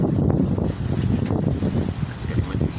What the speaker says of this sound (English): it's getting windy here